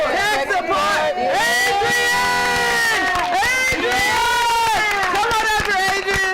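Beach crowd at a semi-final event cheering and shouting loudly and continuously, with many voices and whoops layered over one another throughout.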